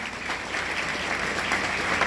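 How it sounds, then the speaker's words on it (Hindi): Loud, steady applause from an audience at a seminar in Varanasi, a continuous dense wash of clapping with no speech over it. "जोरदार तालियां बजाऊंगा।"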